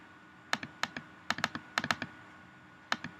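Keys on a computer keyboard clack in quick irregular clusters, sharp and close, followed by a pause and two final taps.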